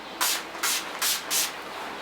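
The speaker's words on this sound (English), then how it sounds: "I just spray a little bit" Makeup setting spray misted from a pump bottle, four short, crisp hissing sprays in a steady rhythm, close and alone.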